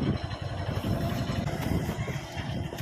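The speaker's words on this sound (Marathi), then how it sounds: "मी बाईक चालवतोय।" Motorbike ridden along a road near a creek, its engine a steady, moderate hum with wind rush, fairly close and continuous throughout.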